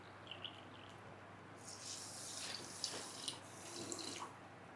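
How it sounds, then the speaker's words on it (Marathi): Water being poured into an electric kettle holding sugar, a faint splashing trickle that starts partway through and runs steadily against quiet room hum. "यामध्ये आपल्याला 5 कप पाणी ओतायचं आहे."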